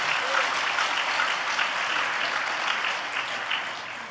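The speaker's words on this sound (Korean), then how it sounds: "우리 한번 박수 쳐드리시죠" A conference audience at a Korean world mission gathering claps together in sustained, even applause that fills the room steadily from start to finish, with no voices rising above it.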